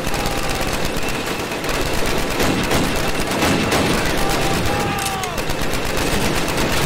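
Dense, loud machine gun fire and other gunshots in the WWII shooter Call of Duty: United Offensive, rapid and continuous bursts filling the scene without letup.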